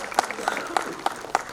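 An audience applauds at a public talk, with sharp claps landing in a steady rhythm of about three per second, close and fairly loud.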